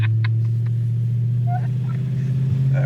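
A six-cylinder engine in a Ford Thunderbird idles with a steady, loud low rumble up close, as people talk briefly over it.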